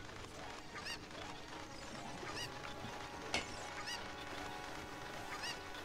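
A chicken squawks while held in the video game The Legend of Zelda: Ocarina of Time, with repeated honking clucks at an uneven rhythm over faint game sounds and no talk.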